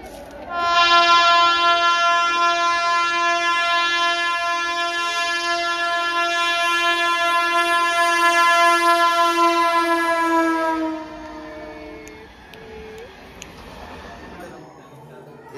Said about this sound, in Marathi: ट्रेन येते आता 1 नंबरला